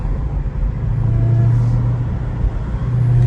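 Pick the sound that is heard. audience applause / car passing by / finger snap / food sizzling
car passing by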